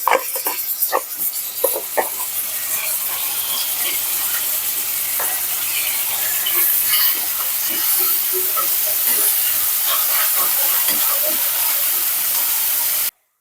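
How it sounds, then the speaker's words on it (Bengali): Spices sizzle and fry loudly with ginger, garlic and onion paste in a pan, a steady dense hiss broken by scraping stirs and small pops, with no one speaking. "এই যে সব রকম মশলা দিয়ে কষিয়ে নিচ্ছে"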